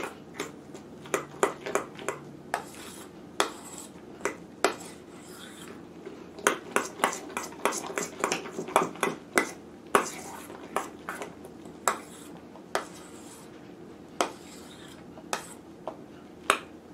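A mixture is stirred and folded in a bowl, with a utensil giving repeated sharp clinks and taps against the bowl in an uneven rhythm, close and moderately loud, with faint soft scraping between strikes.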